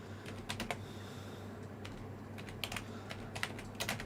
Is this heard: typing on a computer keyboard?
yes